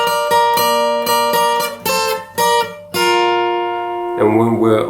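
Electric guitar plays a riff, picked single notes and short chord stabs in a steady rhythm, close and clear, ending on a strummed chord with no voices.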